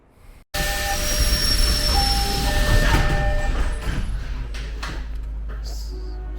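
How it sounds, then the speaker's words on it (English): The Seattle monorail starts moving along its track after a short moment of quiet, a loud rumbling roar with high whining tones that holds steady, then eases to a lower drone as the run continues. "So the monorail is about to be back in motion."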